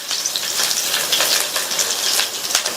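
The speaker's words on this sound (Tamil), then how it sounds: "இஞ்சியும் பூண்டும் லைட்டா வதங்கிடுச்சு" Ginger and garlic sauté in hot oil for an Indian gravy, a loud, close, continuous sizzle and crackle with faint stirring and no voices.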